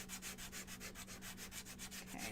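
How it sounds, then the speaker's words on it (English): Wooden frog kit pieces are smoothed by hand with light grit sandpaper, quick rhythmic back-and-forth rasping strokes, about a dozen in steady succession, close and soft with no talk. "We're going to sand with our light grit sandpaper just to smooth."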